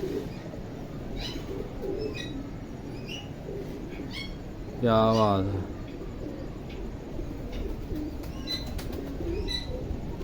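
Pigeons on a rooftop in rainy, breezy weather give a short burst of deep cooing near the middle, amid other scattered bird chirps and background chatter, with someone speaking briefly.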